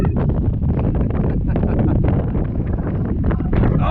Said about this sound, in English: this makes the wind from yesterday look like a joke